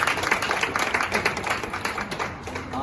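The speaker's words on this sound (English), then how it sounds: "So a round of applause for Esther Kim." A crowd of students claps for a classmate at a school event, with a moderate, continuous patter of hands that tapers off toward the end.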